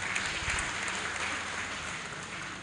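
An audience at an Indonesian school handover ceremony for Chromebooks claps together in a steady, moderately loud wash of applause that fades slightly toward the end, with no speech over it.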